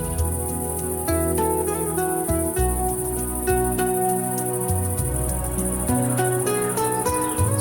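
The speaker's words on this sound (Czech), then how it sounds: "Na obloze se rozsvítí první hvězda a jakoby jí vítal koncert cvrčků v trávě." A summer-evening chorus of crickets in the grass forms a constant high-pitched trill throughout, sitting above a bed of slow, sustained music with shifting low notes; no voices are heard.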